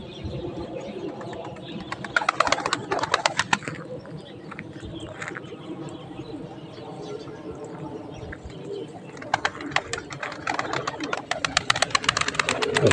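Pigeons and their young chicks coo in a loft, soft repeated cooing running throughout with brief flutters and chirps, while someone talks nearby.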